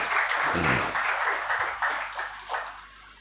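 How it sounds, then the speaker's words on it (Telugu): Church congregation applauding together at an anniversary festival service, a steady wash of many hands clapping that swells and eases in waves, loud and continuous throughout. "చప్పట్లు తెరిచి ప్రభుని కనపరచుదాం."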